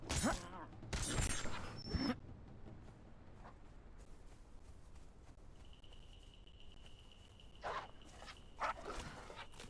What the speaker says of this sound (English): You chose a bad time to pick on me, doggos.